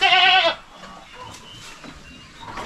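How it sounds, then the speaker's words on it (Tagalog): Small goats on a farm bleat in one loud, close, wavering call for about half a second, followed by quiet barnyard background with faint distant sounds. "Sa ngayon po may 12 tayong mga maliliit na kambing."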